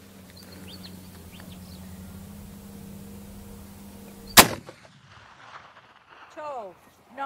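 A 505 Gibbs rifle fires a 600 gram projectile outdoors: one sharp, loud blast after a steady low hum, then birds chirp faintly in the open quiet that follows.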